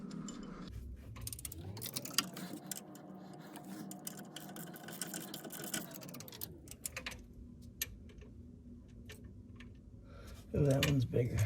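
A half-inch drive ratchet works on a bolt holding the alternator of a Nautique boat's GT40 engine, giving quick close clicks and a whirring mechanical run, then a louder clatter near the end.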